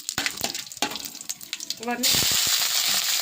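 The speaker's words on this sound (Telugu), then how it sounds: "ఇవన్నీ మసాలాలు అయితే వేసుకొని ఫ్రై చేసుకుంటుంది" Spices and onions fry in oil for a home-cooked chicken biryani. Close clatter and stirring knocks come first, then a steady loud sizzle takes over while a voice speaks briefly.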